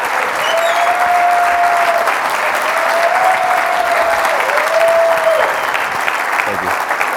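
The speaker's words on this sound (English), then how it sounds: "give Eric one more round of applause" A large conference audience breaks into loud, sustained applause that stays dense and even for several seconds, with a voice faintly audible over the clapping.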